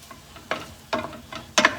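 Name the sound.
garlic sizzling as it is stirred into frying pan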